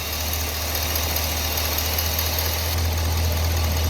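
Supercharged car engine idling at low RPM, a steady deep hum with constant vibration, close and even for several seconds, with no talk.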